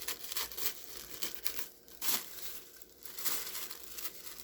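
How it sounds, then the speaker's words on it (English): Scissors slice through a thin plastic shopping bag, cutting it into plarn strips with a steady run of crinkling snips and rustles, close and fairly quiet, with no talking. "You're going to cut from this part where it opens up to this part. Just cut at an angle."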